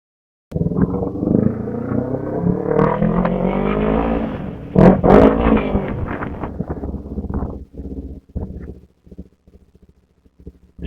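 An Arora GP 250 motorcycle engine and exhaust revving up, a loud rising roar that peaks and then settles into a sputtering, popping idle that fades off, with no talking over it.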